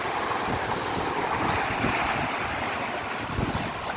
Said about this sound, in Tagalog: Tingnan nyo naman yung alon dito guys.